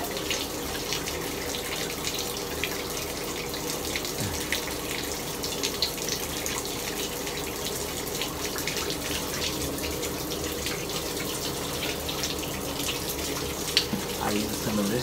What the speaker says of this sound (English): So I'm going to shower.